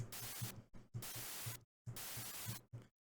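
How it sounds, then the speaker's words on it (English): Bursts of bright synthesized white noise from the Serum synth, built as a snare, start and stop in a choppy, gated rhythm, with short silent gaps and a low pulsing thump underneath. "let's just go ahead and start with a basic white noise"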